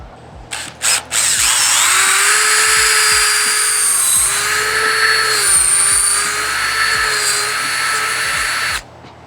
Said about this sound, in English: I'm gonna take a 1-inch forstner bit and drill about 3/4 of an inch deep into the top of the door